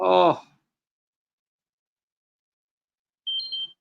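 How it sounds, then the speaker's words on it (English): A short, faint electronic alarm beep sounds alone after a brief spoken exclamation and a stretch of silence. "There goes the fucking alarm again."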